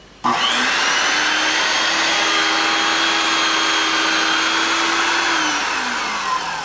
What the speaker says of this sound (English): I'm going to put the switch on, which will run the beveler, which will make it, it'll be very loud, and I'm going to bevel the edge of this carpet.